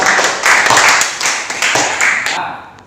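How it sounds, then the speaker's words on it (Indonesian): Students in a classroom clap together, a dense, bright patter of many hands that swells in bursts and fades out near the end, close and fairly loud. "tepuk tangan untuk kalian."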